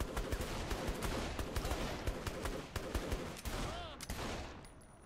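Gunfire in the video game Saints Row The Third: rapid, dense volleys of shots crackling continuously for several seconds, with a brief gap before a final burst, loud and close.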